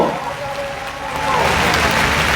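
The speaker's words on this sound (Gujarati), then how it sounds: "જ્યાં ના સુધી ના કહું ત્યાં સુધી તાળીઓ પડે" A large crowd of the Thakor community at a rally in Gandhinagar keeps clapping in a continuous dense patter that grows louder and holds steady toward the end.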